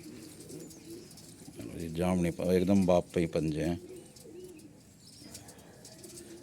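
Original Malwai Punjabi pigeons coo in low murmurs in the background while someone talks loudly and close over the middle of the stretch, the soft calls continuing before and after his voice.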